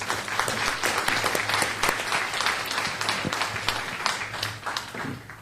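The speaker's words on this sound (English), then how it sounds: "Can we give them a round of applause for being out here?" An outdoor audience at a county listening session gives a round of applause, dense continuous clapping from many people that holds steady and tapers slightly near the end.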